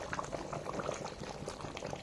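Chicken curry bubbling in a clay pot, a steady close simmer of small pops and gurgles with no voices.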